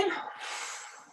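Deep breath in during a bend-and-stretch exercise, a short airy inhale heard close and fairly quiet, lasting about a second.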